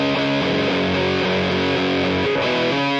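Heavily distorted electric guitar plays through a Quad Cortex amp with overdrive pedals stacked, thick sustained chords shifting in pitch, loud and alone with no talking.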